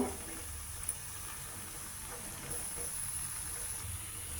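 A chana mixture sizzles gently in a pan on low heat, a soft continuous hiss with a light clink or two, quiet and steady throughout.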